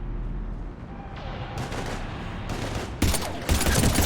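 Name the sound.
gunfire in the video game Mass Effect 3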